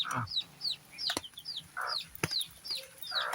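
Soft clucking from chickens nearby, with high chirps from chicks and a few sharp taps in between.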